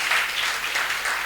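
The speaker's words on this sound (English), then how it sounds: "we have to give her a big hand of applause" Applause from the audience at a mental health conference, a steady dense wash of clapping with no gaps, moderately loud and heard on its own.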